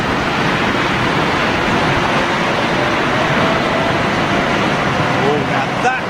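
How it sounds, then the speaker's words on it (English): A Boeing 777-200 with Rolls-Royce Trent 800 engines arriving in stormy weather at Heathrow, a steady, loud broadband roar filling the whole clip, with wind and rain noise blended in. "777 by the sounds of it. Yeah. Rolls-Royce Trent 800s on the 777-200."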